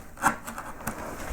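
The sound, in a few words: skew chisel carving wood relief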